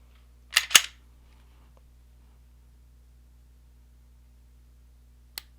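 A flat-faced Apex trigger on an M&P 2.0 pistol gives two quick, close mechanical clicks near the start as it resets and breaks, followed by a faint single click about five seconds later in an otherwise quiet room.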